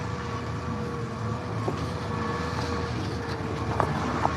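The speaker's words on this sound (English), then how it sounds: "That Kubota is an awesome loader tractor" A Kubota loader tractor engine runs steadily with a continuous low drone, used for loading a feed wagon while feeding cows, accompanied by light wind noise and a few faint knocks.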